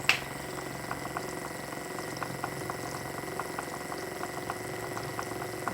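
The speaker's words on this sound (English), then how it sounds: "See, those are little air bubbles coming out, but that's normal for the start." Air bubbles rise and pop in the water bath of a DIY plastic filament extruder, a faint, steady bubbling and trickling over a constant low machine hum, with no voices.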